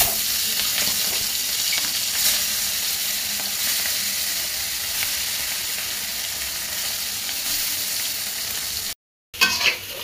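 Rohu fish frying in a pan on a stove gives a steady, loud sizzle with faint crackles that runs unbroken for most of the stretch, then cuts out briefly before resuming near the end.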